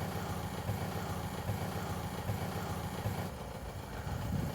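A BMW E46's engine running at low revs as it reverses to push another car, a steady mid-pitched drone with slight fluctuations that grows a little louder near the end.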